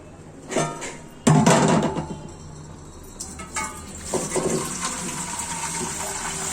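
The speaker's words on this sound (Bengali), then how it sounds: "আমি মাছগুলো কিভাবে ধুয়ে নিচ্ছি" Water gushes and splashes over freshly bought koi fish as they are washed, starting with a sudden loud pour, then continuing as a softer running and trickling stream with occasional sloshes.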